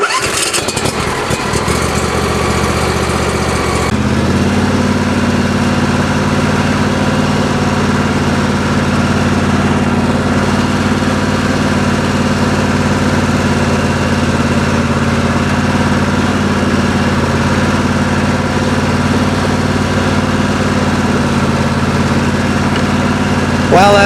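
A 27 HP Craftsman LT1000 riding lawn mower engine starting, then settling into a steady, loud idle with a throbbing low hum close by.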